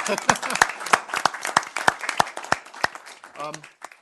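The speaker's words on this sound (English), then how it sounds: "Let's just stop and clap." A small group clapping at a city council work session, with distinct, uneven claps that thin out toward the end, close by, and a voice heard near the finish.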